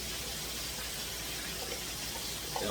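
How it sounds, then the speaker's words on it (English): A can of evaporated milk pours steadily into a pot of mac and cheese, a constant close liquid rush lasting the whole moment with no talking. "I'm going to add in a can of evaporated milk."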